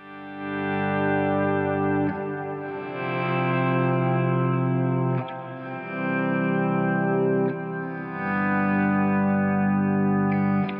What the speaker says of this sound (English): But it also operates as my volume pedal when I use it with the expression pedal. So I can do, you know, swelly stuff.